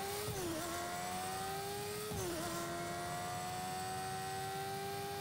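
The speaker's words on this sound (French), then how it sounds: "On prend une moto." Motorcycle ridden in the video game Fortnite, its engine droning steadily and revving up twice in quick succession, loud and alone without talk.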